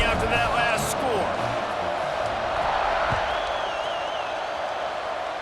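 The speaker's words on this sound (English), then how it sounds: "this crowd is buzzing after that last score" A stadium crowd in a college football video game keeps up a steady, broad murmur and roar in the background, with a few whoops and an announcer's voice speaking over it.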